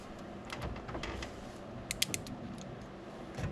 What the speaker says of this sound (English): There's your crimp right there.